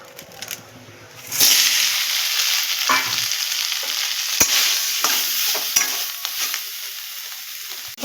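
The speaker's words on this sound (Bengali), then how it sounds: "এবার এটাকে আমরা হালকা করে ভেজে নেব যাতে কাঁচা গন্ধ না ছাড়ে" Soybean chunks coated in salt, turmeric and sugar fry lightly in a little oil in a kadai, starting quiet, then rising to a loud, continuous close sizzle, with occasional stirring scrapes and clicks.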